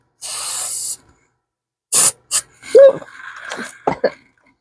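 A long hiss of aerosol hair color spray, then short spray bursts, followed by throaty coughing and sputtering nearby.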